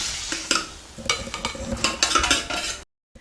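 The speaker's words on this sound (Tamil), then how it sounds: "மெல்லமா கொஞ்சம் கொஞ்சமா ரவை போட்டு கிளறிக்கலாம்" Rava stirred into boiling milk in a pan over a low flame, a ladle scraping and clinking in uneven strokes with soft bubbling beneath, close and fairly loud, ending abruptly in silence.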